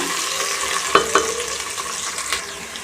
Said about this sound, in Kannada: ಇದೊಂದು ಎರಡು ನಿಮಿಷ ಫ್ರೈ ಮಾಡಿ ಫ್ರೈ ಮಾಡ್ಕೊಳ್ಳೋಣ